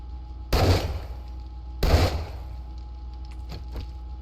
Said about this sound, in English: Obviously, I shot my own ceiling